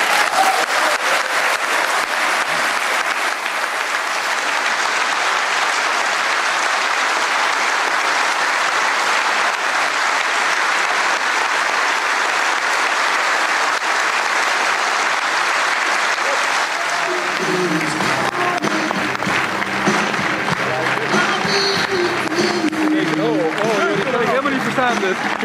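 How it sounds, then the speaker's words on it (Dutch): Loud, sustained applause from a political party audience for the party leader, many hands clapping steadily for a long stretch; toward the end a voice speaks over the fading clapping. "Geweldig, dit applaus voor de lijsttrekker."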